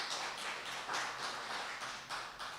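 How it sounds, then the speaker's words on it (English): An audience applauds the readers at a Thoreau's Cape Cod readathon, a fairly distant, steady wash of many hands clapping that carries on evenly without pause. "Let's have a round of applause for all the readers."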